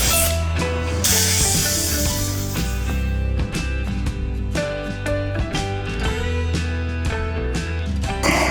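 Glue is sprayed onto a car headliner: a steady, loud hissing spray runs almost continuously, with a constant droning hum underneath and brief breaks in the hiss.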